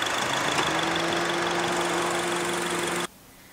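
2010 Honda CR-V with a 2.4-liter four-cylinder engine idling close by, a steady low hum with a faint rhythmic tick, cutting off abruptly near the end.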